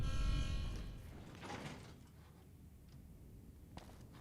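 A door opening in the video game Fallout New Vegas, a loud heavy mechanical whoosh and rumble up front that fades into quiet room tone, with a small click later, no voices.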